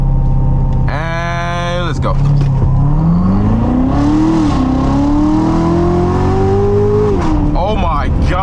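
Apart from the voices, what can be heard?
Corvette revving then launching in a 0 to 60 run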